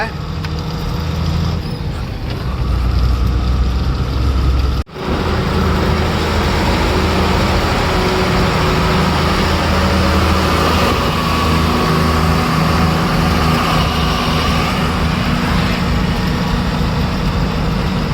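Vehicle engine droning steadily while driving on a bumpy road, with rumbling and jolts throughout and a brief dropout near five seconds, a voice talking over it.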